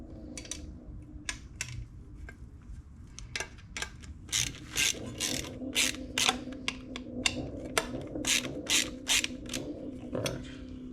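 Bolts being hand-tightened on an aluminum ABS unit mount for a second-generation Dodge Viper, giving a close, irregular run of short clicks, rasps and ratcheting bursts over a steady low hum, with no talking.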